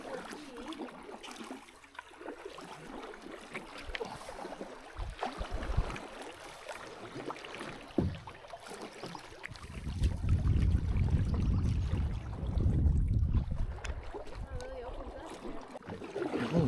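Canoe paddling on a long lake stretch during a multi-day Algonquin wilderness canoe trip, with water splashing and dipping strokes that grow louder and denser in the second half, under a steady outdoor background.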